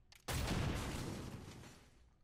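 An explosion in the XCOM: Chimera Squad video game, a sudden loud blast that erupts after a faint lead-in and rumbles, slowly fading over about two seconds with no voices.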